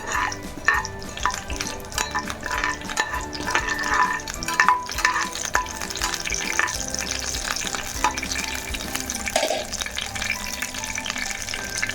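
Tempering spices for semiya upma sputter and fry in hot oil, a continuous crackling sizzle up close with occasional stirring sounds and scattered pops.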